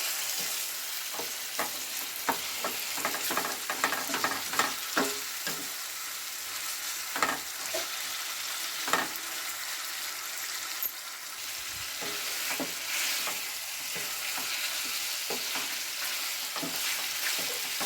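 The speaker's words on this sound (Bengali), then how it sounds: "চিকেনটা এবার হালকা হাতে নাড়তে থাকবো তেলের মধ্যে" Chicken pieces stirred and fried in hot oil, a continuous bright sizzle with frequent spatula scrapes and taps, louder clusters early on, no voices.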